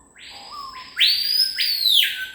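An unseen bird calls from just overhead in the French Guiana forest, giving a series of loud, clear whistled notes that step up and grow stronger across the clip.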